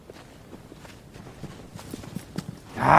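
Horse hooves clip-clop at a trotting pace in the video game Shadow of the Colossus, growing slightly louder, ending with a sudden loud burst of sound.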